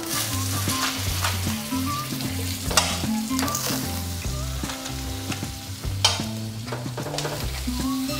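A peanut butter banana sandwich fries in butter on a hot pan, giving a steady close sizzle with scattered scrapes and taps, all under a strong, continuous bed of background music.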